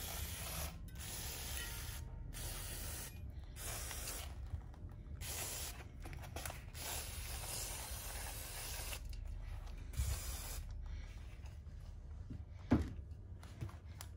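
Finish Line disc brake cleaner is sprayed onto a bicycle's rear disc brake rotor in a string of close, hissing aerosol bursts, with short pauses between them and a small click near the end.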